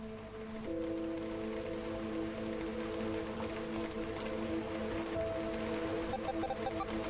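Steady rain falls in the video game Distraint, a soft continuous hiss of drops under sustained tonal game music, low and even throughout.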